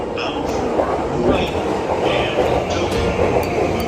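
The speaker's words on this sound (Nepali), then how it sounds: "अब ट्रेन पनि आइसक्यो" A train arriving at a station in Tokyo rumbles steadily nearby, loud and continuous, with faint wheel clatter and muffled voices in the background.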